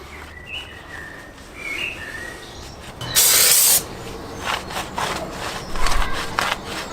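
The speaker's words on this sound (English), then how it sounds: "Brake and clutch parts cleaner, as you can see." A can of brake and clutch parts cleaner gives one strong, hissing spray lasting under a second, close up in a garage, followed by lighter scraping and rubbing sounds and a few faint chirps.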